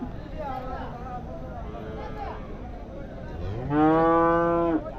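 Cattle lowing at the Vaniyambadi livestock market, a long loud harmonic moo rising near the end over a constant din of crowd chatter and other animals.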